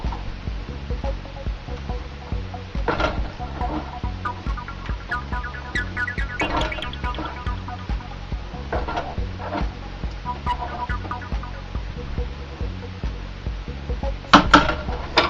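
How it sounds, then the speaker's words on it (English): Spaghetti sauce stirred in a pot as it heats toward a boil, giving a steady low bubbling throb with scraping stirs and occasional clinks of the spoon, fairly close and continuous with no talk. "Now we just stir all this in and let it come to a boil."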